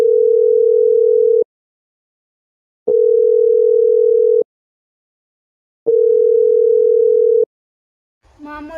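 A phone call rings out with three long, loud, steady electronic tones separated by even silent gaps, followed by a brief burst of faint noise at the end.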